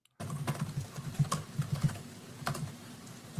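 Rapid, forceful keystrokes clatter on a computer keyboard, struck hard by a judge, in an uneven burst of close, sharp clicks lasting a few seconds.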